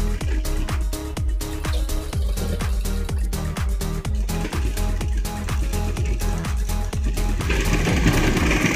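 A sewing machine stitches lace onto a blouse back neck in a fast, steady, regular rhythm of needle strokes, close and continuous, picking up slightly near the end.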